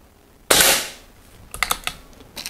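Air Arms S400 air rifle, a two-handed target air gun fired out of the box, lets off one sharp close crack followed by a short fading tail, then a few faint clicks and taps.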